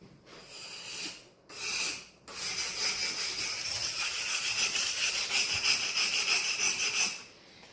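A scraper is rubbed down to remove nicks, giving rough, raspy scraping strokes: two short passes, then a long continuous run of rhythmic rubbing, close and fairly loud.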